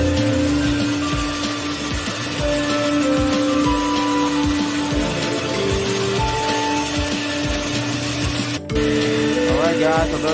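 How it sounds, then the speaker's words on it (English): A carpet extraction machine runs steadily over a rug, pulling pet urine out during a rug cleaning job in Short Hills, NJ. It makes a loud, continuous mechanical drone with a strong hum that barely changes, with a brief click near the end. "that's just doing the extraction on the pet urine"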